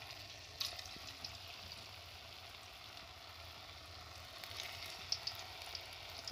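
Small soybean pakoras dropped into hot oil fry with a steady, soft crackling sizzle, a quiet continuous bubbling with a few brighter pops near the start and end, heard alone without talk.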